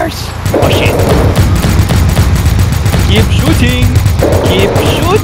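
Gunfire in the Barotrauma submarine game comes as loud, sustained bursts of rapid shots with booms and a low rumble underneath. Excited voices talk over the shooting.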